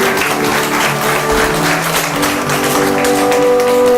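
A church congregation claps along under loud sustained music, the applause a busy crackle mixed with held tones and a bass thump.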